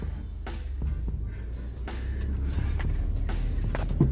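A repaired car engine runs steadily with a low, continuous rumble that builds slightly louder toward the end, accompanied by a few faint clicks and knocks and no talking.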